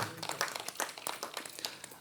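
Faint, scattered clapping from an audience, a quiet patter of hands with no voices over it.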